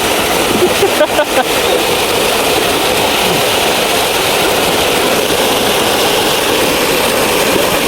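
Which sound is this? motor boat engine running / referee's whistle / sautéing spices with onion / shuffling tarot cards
motor boat engine running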